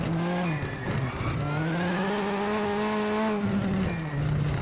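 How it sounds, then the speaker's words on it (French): A rally car's engine whines and its tires squeal under hard braking in the video game WRC, a sustained loud screech that bends in pitch. "Oh, le bruit que ça fait quand je freine."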